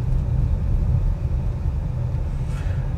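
A 2025 Toyota Crown Signia XLE crossover driving slowly in a tight full-lock circle, steady low engine and road rumble with soft tyre noise, fairly quiet and even.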